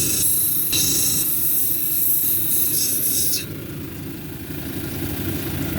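Steady motorized grinding hum of a lapidary wheel shaping a flint cabochon, loud and continuous, with a brighter gritty high layer that cuts off partway through and leaves a lower drone.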